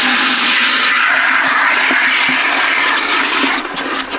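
A garden hose pours water into a barrel on a farm, giving a loud, steady rushing gush that carries on without a break and thins slightly near the end.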